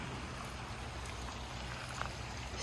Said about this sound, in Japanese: 下には小川が流れています。